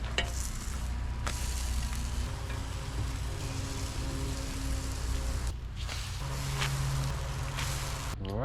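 Pancakes sizzle steadily in a pan on a camping stove outdoors, a continuous close frying hiss with faint stirring and utensil clicks, no talking.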